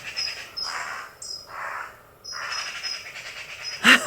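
Magpies give harsh, chattering calls outdoors, several bursts in sequence at moderate distance with brief gaps between them.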